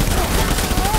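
Gunfire from a doctor character shooting in the video game Death Stranding crackles as a dense, loud, continuous burst of rapid shots filling the whole moment.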